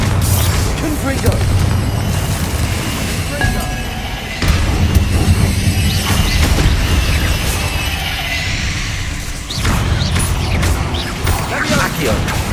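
Spell combat in Hogwarts Legacy, with Confringo fire blasts and other casting effects: dense, loud booms, crashes and whooshes layered over a continuous clamor of battle and voices.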